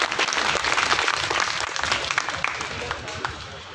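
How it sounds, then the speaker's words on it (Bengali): Audience at a Bengali New Year (Pohela Boishakh) school function at a college in Dhaka applauds loudly, dense steady clapping filling the whole stretch and easing slightly toward the end. "তাদের সকলের জন্য আমরা একটু জোরে করতালি দিই।"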